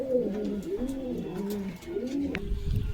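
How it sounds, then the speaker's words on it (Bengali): Pigeons cooing in a loft, several soft, low throaty coos that roll and overlap at close range, with faint shuffling and a small knock near the end, and no speech. "পায়রা অনেকগুলো আছে সেলের জন্য"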